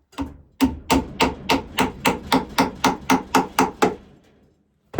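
A hammer taps a piece into the wood of a small deck-style chicken coop, about a dozen close, evenly spaced blows in a quick steady rhythm, followed by a pause and one last knock.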